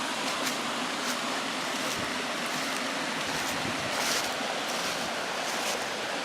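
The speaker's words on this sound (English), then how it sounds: "the creek is definitely running harder" Lost Creek Falls on a fall hike, the creek running high, gives a continuous soft rushing wash of water with faint brief splashes and light wind buffeting, fairly quiet and without voices.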